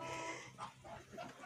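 A hen clucking softly at a small backyard coop, a few short low calls over faint background noise, quiet and somewhat distant.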